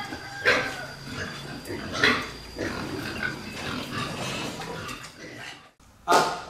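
Pigs on a Vietnamese farm let out several loud squeals and grunts in separate bursts, with quieter snuffling and rustling between them.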